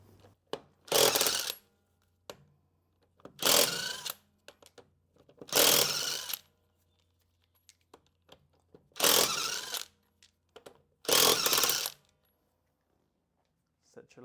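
Lug nuts come off a Honda Pilot wheel, 2003–2008 model, with a 19mm socket on a power tool: five separate loud bursts of whirring and rattling, each about a second long, with quiet gaps between them.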